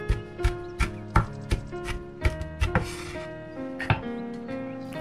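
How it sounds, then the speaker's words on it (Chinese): A knife chops green onions on a cutting board in quick, uneven strikes, sharp close taps over a faint musical background. "一颗小葱，切成葱花以后再剁一剁"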